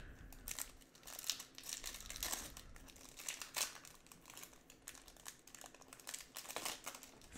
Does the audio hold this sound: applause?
no